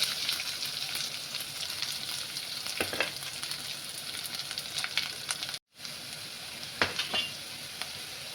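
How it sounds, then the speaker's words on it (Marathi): Cumin, curry leaves and onion sizzle steadily in hot oil for a quick tomato sabzi, a close, continuous frying hiss with a few stirring scrapes and one brief break partway through. "जिरे घालायचे, कढीपत्ता घालायचा, कांदा घालायचा"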